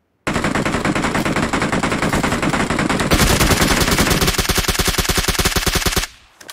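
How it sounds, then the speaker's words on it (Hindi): Automatic gunfire in the mobile shooter PUBG Mobile, a loud, continuous rapid stream of shots lasting several seconds, with the firing rhythm turning sharper and more distinct partway through before it cuts off abruptly. "किसको मारो गोली को चलाऊं"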